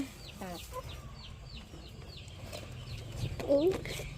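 Hens cluck and murmur repeatedly nearby, with a louder squawk near the end and a steady low background hum.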